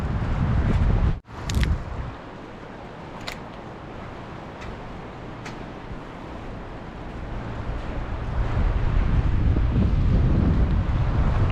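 Strong wind gusting over open water while bass fishing from a boat, a steady broadband roar buffeting the microphone throughout, swelling louder toward the end.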